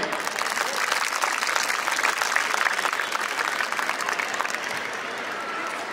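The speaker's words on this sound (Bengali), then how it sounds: "তাদের জন্য বিশেষ করতালি" Sustained applause from an audience at an inter-house annual school sports competition, dense clapping holding steady for several seconds and easing slightly near the end.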